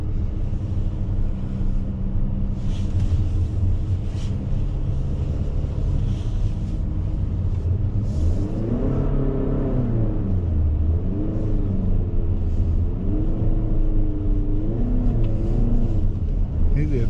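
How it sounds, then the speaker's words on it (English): A Skoda Superb drives zigzag left and right across snow, its engine rumbling steadily and rising and falling in pitch as it works through the turns, with wind buffeting close to the microphone and people talking inside the car. "ne znam da li vidite kako idemo s autom, ali ide na cik cak auto"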